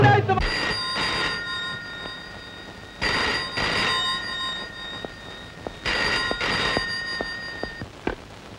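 A telephone rings at a police station in repeated double bursts, about four rings, clear and fairly close against a quiet background.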